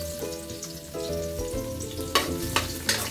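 Garlic frying in a pan for a beef dish, a steady crackling sizzle with a spatula scraping and knocking against the pan in several distinct strokes toward the end; no voices.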